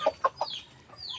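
Bantam chickens at feeding time on a farm give several short, close clucks in quick succession, with fainter bird calls after them and no talk.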